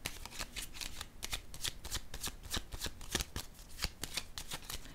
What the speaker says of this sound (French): je vais déposer une autre carte ici pour être éclairée